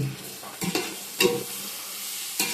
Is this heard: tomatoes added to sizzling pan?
yes